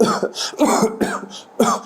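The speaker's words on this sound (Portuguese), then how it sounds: "pedir para o paciente tossir mais" A series of harsh coughs, about five bursts in under two seconds, close and loud, separated by short breaths.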